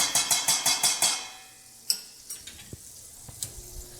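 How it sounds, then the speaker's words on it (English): Butter sizzling and crackling as it melts in a pan for veal piccata, opening with a quick run of rhythmic scraping strokes, then settling into a softer steady sizzle with scattered clicks and taps. "let's get our butter melted. So butter's going to go in."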